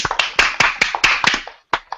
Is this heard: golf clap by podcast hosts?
yes